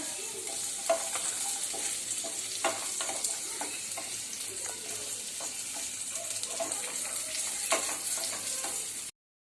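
Cashews and raisins frying in hot oil in a pan, with a steady dense sizzle and crackle running throughout plus occasional stirring clinks, close and fairly quiet until it cuts off near the end.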